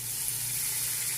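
Garlic-ginger paste and spices sizzle in a pan while being fried for karhi pakora, a continuous, even hiss with no talk over it.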